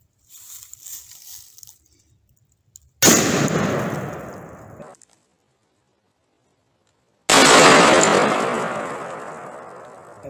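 Two loud, sharp gunshots ring out at ballistic safety glasses about seven yards away, each followed by a long echoing tail and separated by a few seconds of quiet, after a softer earlier noise.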